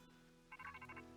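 An in-game phone call chimes in Pokémon Scarlet & Violet, a short run of bright electronic ringing tones over a steady game music bed, fairly quiet and without talk.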